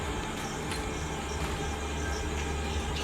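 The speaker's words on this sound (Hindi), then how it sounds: "ये जो पीछे आवाज़ें आ रही है ना ट्रैफिक की" Traffic from a nearby bypass road forms a constant low rumble and wash of passing vehicles, steady and moderately distant, with no speech.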